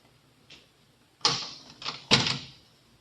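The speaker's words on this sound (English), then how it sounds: "Well, try the door." A door is opened in an indoor scene from a 1930s Frank Sinatra-era film: a faint click, then two louder knocks or rattles of the latch and door close together, with no talk.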